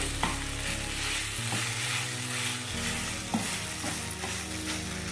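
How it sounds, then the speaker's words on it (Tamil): Potato masala is sautéed in a pan, steady sizzling with scraping stirs and occasional clicks of a spoon against the pan, close and continuous. "இந்த மசாலாலாம் நல்லா உருளைக்கிழங்கோட மிக்ஸ் ஆகிற வரைக்கும் நல்லா வதக்கி விட்டுக்கோங்க."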